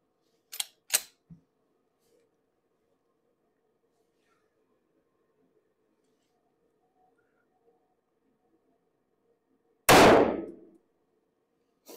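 Pistol firing Corbon 115-grain .357 SIG rounds, heard as a couple of quick sharp cracks close together, then a long quiet gap before one loud, ringing blast near the end.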